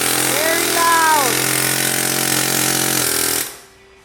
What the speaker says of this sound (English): at times you may need to use a hammer drill